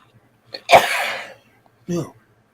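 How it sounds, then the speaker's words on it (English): A person sneezing close by, one sharp explosive sneeze followed by a shorter second one about a second later, loud against a quiet room. "you only get 3 sneezes around me."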